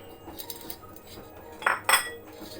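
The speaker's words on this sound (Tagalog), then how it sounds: "ito ay haluin natin dito para ma-mix talaga siya" A utensil stirs lemon cake batter in a bowl, with scattered light scrapes and clinks and two louder clanking strikes against the bowl near the end, all close and without talk.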